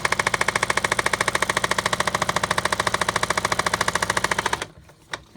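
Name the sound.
faulty quilting sewing machine running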